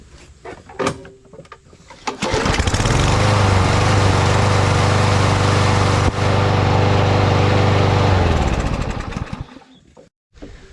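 Small engine with an automatic choke, a few clanks and a pull, then it fires and runs at a loud steady buzz for about six seconds before winding down and dying.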